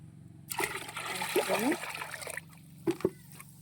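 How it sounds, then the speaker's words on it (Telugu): Liquid sloshes and splashes for about two seconds as ground neem leaf paste is mixed into water as plant fertilizer, followed by a pause and two quick small splashes, close up. "ఇది వేపాకు మిక్సీ పెట్టానండి, వాటర్లో కలుపుతున్నాను."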